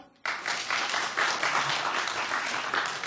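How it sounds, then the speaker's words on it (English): An audience at a university journalism awards ceremony claps together from the front rows, a dense, steady burst of applause that starts abruptly and holds loud and even for a few seconds. "can we get a clap from all the people at the front?"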